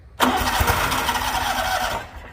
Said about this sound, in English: make sure your parking brake is on, and then it will start up for you